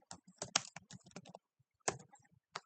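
Computer keyboard keys tapped during a data-mapping task, a quick burst of close crisp clicks, a short pause, then a few more isolated taps.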